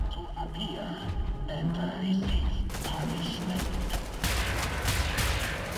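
Enemy gunfire in the shooter game Wolfenstein: The New Order, a dense fusillade of shots with thuds running steadily through the clip, busy and loud throughout with no talk.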